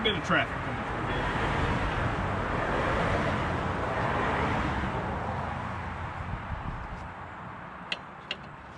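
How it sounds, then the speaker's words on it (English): Road traffic passing close by an outdoor work area: a broad, steady roar swells and slowly fades as vehicles go past, with a few sharp clicks near the end and no clear talking. "Quite a bit of traffic coming through here."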